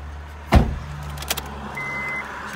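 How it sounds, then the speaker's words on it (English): A 2006 Honda Jazz 1.4 door is pulled shut from inside with one solid, close thud, followed by light interior clicks and a soft electronic chime over a low idle hum. "Jump inside the car, let's pull the door to."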